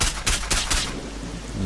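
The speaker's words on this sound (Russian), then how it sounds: "Да, пули свистят." Bursts of loud gunfire in the game Stalker Old Story mod, several sharp rattling volleys in quick succession followed by a dense, noisy wash of shots and debris.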